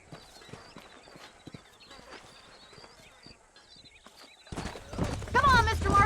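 Horses' hooves clip-clop steadily in the Red Dead Redemption video game, a busy run of rhythmic hoof beats that grows louder and denser toward the end, with other game sounds layered in.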